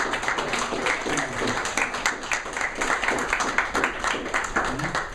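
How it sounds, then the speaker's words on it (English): Wedding guests applauding newly married Paul and Claire after the ceremony, a continuous wash of many hands clapping close by, with voices mixed in underneath. "Round of applause"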